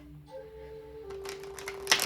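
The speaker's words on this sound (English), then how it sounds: "I'm shuffling and the cards almost slipped out." A deck of playing cards being shuffled close by. Quiet at first, then a run of rapid riffling clicks that ends in a louder flurry, with no talk.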